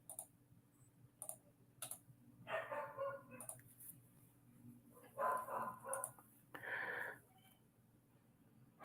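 Indoors, a dog barks in several separate bursts, fairly far off and muffled, mixed with light clicking like keyboard typing nearby.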